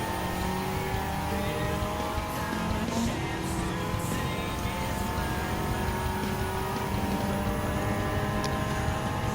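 A race car engine in Gran Turismo 7 drones steadily at high revs throughout, a loud continuous mechanical hum with faint tonal shifts and no clear breaks for individual gear changes.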